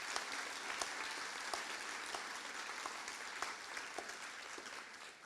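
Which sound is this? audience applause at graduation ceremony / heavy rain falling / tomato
audience applause at graduation ceremony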